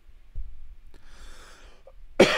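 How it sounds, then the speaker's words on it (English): A person with a cold coughs sharply once near the end, after a faint throat sound and a soft breathy exhale, all close to the microphone with no talking. "this is the coughing stream"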